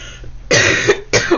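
Two loud, close coughs from someone speaking French during a December astrology reading, a longer burst followed by a shorter one after a brief pause.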